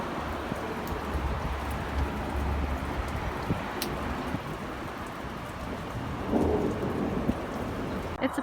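Heavy rain pours steadily onto surfaces around a garden during a thunderstorm, with low rolling thunder rumbling underneath and a sharper crack partway through.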